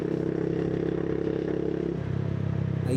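A motorcycle engine drones steadily and close as the bike picks up speed on an empty city stretch, the pitch shifting slightly toward the end.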